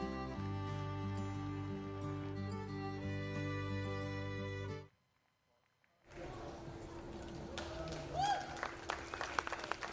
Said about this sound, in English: give them one last really well-deserved round of applause